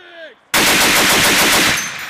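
Machine gun fire at a U.S. Marines live-fire range exercise in Australia: after a faint voice, a loud, close, sustained burst of rapid automatic fire with a rhythmic pulse, fading into echo.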